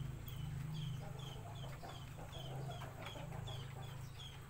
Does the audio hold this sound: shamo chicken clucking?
yes